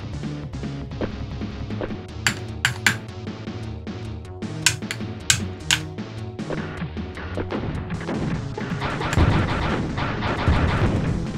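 Rapid gunfire from Robocop vs Terminator on the SNES, sharp repeated synthesized shots cracking over busy game music, growing denser and louder toward the end.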